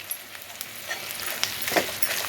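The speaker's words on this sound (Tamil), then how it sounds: "இது ஒரு நிமிஷம் நல்லா வதங்கிட்டோம் பூண்டு மிளகாயும்" Garlic and Kashmiri chillies sauté in a pan with a soft, continuous sizzle, dotted with small pops and occasional stirring scrapes, close and fairly quiet.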